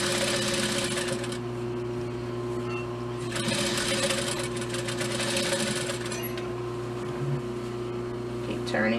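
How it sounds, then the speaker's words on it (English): A sewing machine stitches along the edge of fabric for a knot dress, with a steady, close, continuous motor whir and needle chatter that briefly slows and pauses at the pivots, under a speaking voice. "Make sure when you're pivoting you keep your needle down to keep your place as you're sewing."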